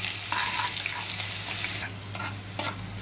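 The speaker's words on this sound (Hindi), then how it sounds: "हमारी प्याज गोल्डन ब्राउन हो गई" Onions frying in a pan until golden brown, a steady close sizzle with light stirring scrapes throughout.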